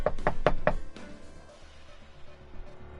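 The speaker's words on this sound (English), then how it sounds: "I got a knock on my wall." Four sharp knocks on a wall in quick even succession, loud and close, followed by a quiet room tone.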